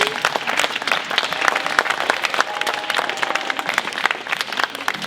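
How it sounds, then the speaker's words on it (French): An audience at a youth network event in the Ain claps steadily, a dense, close burst of applause with scattered individual claps sustained throughout. "je crois que vous pouvez nous applaudir"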